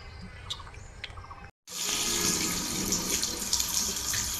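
Water splashing and running while someone washes their eyes at a sink, with a few small splashes, a brief gap, then a steady, close gush of flowing water with no talk.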